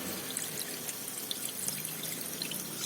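Coolant being poured into a car's cooling system during a restoration, a steady close trickle of liquid with small splashes and drips, heard alone without talk.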